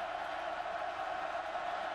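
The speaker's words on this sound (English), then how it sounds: "Crowd making it tough for the freshman." Steady, dense roar of a football stadium crowd at a college game on a third-down play, continuous and fairly loud throughout with no breaks, voices blending into a broad wash of noise.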